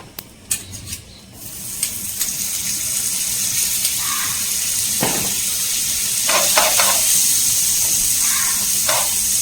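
Butter hits a hot pan while cooking paneer burger stuffing, giving a steady hiss of sizzling that builds and holds, with occasional clinks and scrapes of a utensil against the pan.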